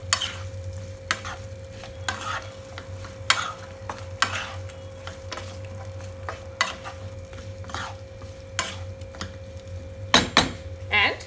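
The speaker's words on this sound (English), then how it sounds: "And let them fry for a while." Potatoes with turmeric and chili powder sizzle steadily in a pan while a utensil scrapes and stirs at irregular intervals, with a sharper clatter near the end.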